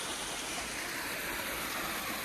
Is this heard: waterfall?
yes